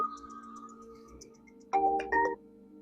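A phone rings with an incoming call, a melodic electronic ringtone playing close by, with a short tune followed by two louder bursts.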